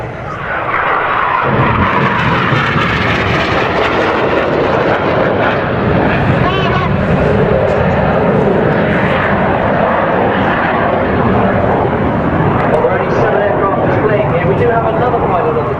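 The RAF Red Arrows synchro pair jets pass at the Farnborough International Airshow, a loud, continuous roar filling the whole stretch while a commentator talks over it.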